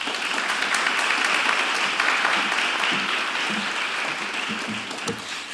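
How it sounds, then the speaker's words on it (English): An audience at a speech competition breaks into sustained applause to welcome the evening's MC, a dense wash of clapping that holds steady and then tapers slightly toward the end. "let's give a warm round of applause and welcome your MC for tonight, Kaylin King."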